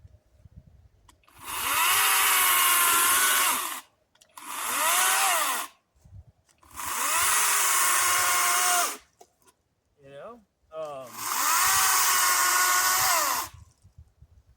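A cheap ReliaRoads 40V battery chainsaw cuts firewood in four sustained bursts of high electric whine, with short pauses between them and a brief voice in one gap.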